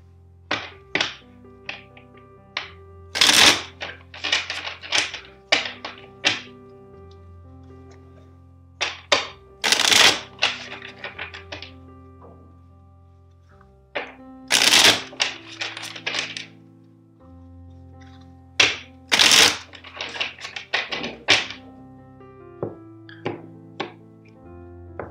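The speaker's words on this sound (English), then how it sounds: "First, let's shuffle four times." Tarot cards are shuffled by hand in repeated bursts of crisp slaps, taps and riffling flutters, close and clear with quiet pauses between rounds and no talking.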